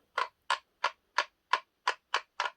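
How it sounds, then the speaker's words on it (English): A brushless motor in a cordless angle grinder clicks as the spindle is turned by hand, eight crisp, evenly spaced ticks, close and clear in a quiet room. "By that clicking sound when you turn it by hand."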